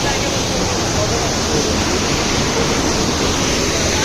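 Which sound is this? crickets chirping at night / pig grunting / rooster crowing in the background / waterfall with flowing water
waterfall with flowing water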